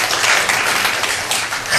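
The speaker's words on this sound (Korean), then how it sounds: "우리 한번 박수 한번 합시다." A church congregation at a Sunday service claps together in a brief burst of steady, dense applause from many hands.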